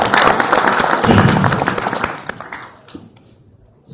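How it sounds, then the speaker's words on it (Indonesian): Audience applause at an Indonesian book discussion event, a dense burst of clapping filling the first two and a half seconds and then thinning and fading away. "Kasih aplaus buat beliau semua."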